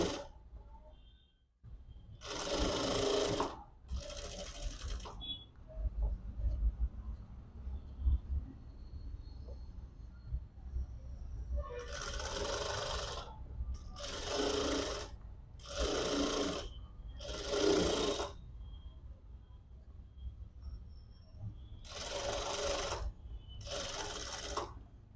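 A sewing machine stitches a 1/4-inch seam on a turned-out princess-style back-open blouse in about eight short separate runs. Each whirring burst lasts about a second, over a low steady background hum.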